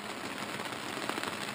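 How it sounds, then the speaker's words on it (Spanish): Steady rain falling during a multi-day expedition, a dense even hiss of drops on surfaces with no speech, soft and continuous. "son las 10 de la mañana, sigue lloviendo"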